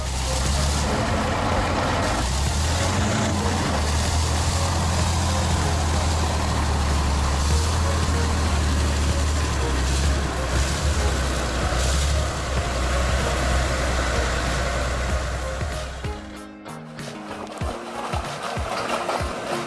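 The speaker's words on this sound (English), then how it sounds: "Even the off-road king has to strain under this brutal muddy road." A heavy tractor's diesel engine rumbles low and loud without pause, straining steadily as it pushes through deep mud, with a clunk and shift near the end.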